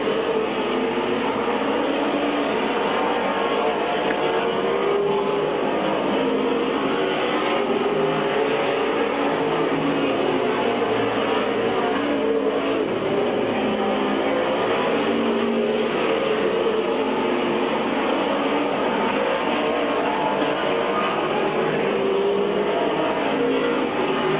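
Race cars circling Midvale Speedway during a 1997 oval race, a continuous dense roar of several engines rising and falling together at a steady distance, with no talk over it.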